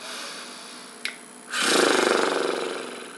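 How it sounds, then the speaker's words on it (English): A voice demonstrates a lip trill during vocal range practice, blowing air through loosely flapping lips. After a brief click, a buzzy, fluttering rumble starts and holds steadily for under two seconds before fading slightly, close and fairly loud with no talk. "take a breath and let air out through your lips, letting them flap together like you're tired"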